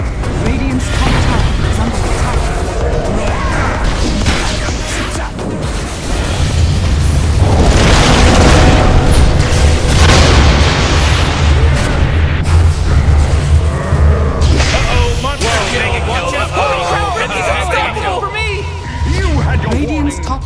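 Heavy booming impacts and crashes from Radiant's top tower being attacked in Dota 2 pound continuously through a loud battle mix, with a voice speaking over the action.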